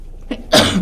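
A single sharp human sneeze indoors during a historical commission meeting, with a brief intake just before the loud burst; it is close and lasts under a second.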